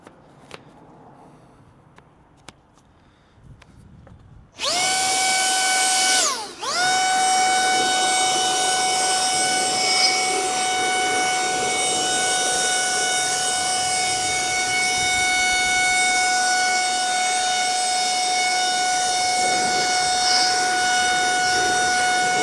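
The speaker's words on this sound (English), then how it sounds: "Let me get the blower out and we will shortcut this drying process a little bit." A blower dries a car after its wheels have been washed, starting abruptly with a loud, steady, high-pitched motor whine that dips briefly once and then holds constant, with no talking.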